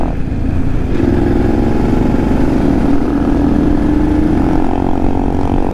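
A BMW F850 GSA motorcycle cruising on a highway, its engine holding a steady, loud drone throughout with no pauses, heard up close alongside constant wind rush.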